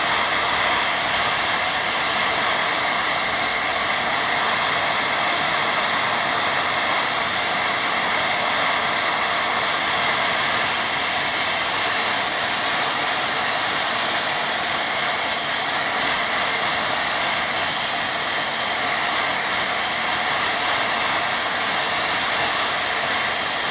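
A hair dryer runs continuously for the whole stretch drying a watercolour painting, a loud, steady, close-up rushing roar with no breaks or talk.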